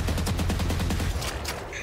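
A quick burst of rapid gunfire in the video game Valorant, a dense rattle of close, loud shots that thins out toward the end, with no talk.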